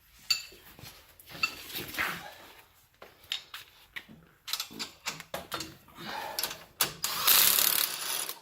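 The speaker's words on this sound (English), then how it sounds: "with an 18 millimeter wrench and socket" An 18 millimeter wrench and socket ratchet on a 2017 John Deere 2032R tractor during belly mower linkage installation, bursts of quick metallic clicks with pauses and clanks, close by.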